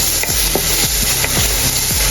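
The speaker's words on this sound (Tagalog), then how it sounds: "saka sunod na rin natin dito ang bawang. Haluin ulit natin." Garlic sautés in a pan for bopis while a utensil stirs it, each quick scraping stroke landing roughly every half second over a constant close sizzle.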